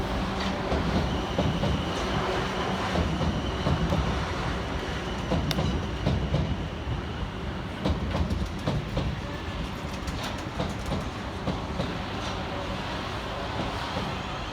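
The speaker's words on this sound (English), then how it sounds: "Whilst arriving in the background is 444010 and 444013, with the 1324 South Western Railway service of London Waterloo through to both Weymouth and Poole" Two coupled South Western Railway class 444 electric units, 444010 and 444013, arriving at Southampton Central, a steady rumble and clatter of wheels on track with rhythmic clicks and faint squeals, sustained and fairly distant throughout.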